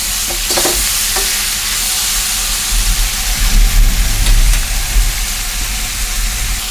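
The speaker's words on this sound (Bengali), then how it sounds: "সবজিটা ভালোভাবে ফ্রাই হয়ে গেছে" Vegetables with onion, ginger and garlic stir-frying in a pan for sambar: a loud, close sizzle with a low rumble underneath and a few sharp scraping strokes, no speech.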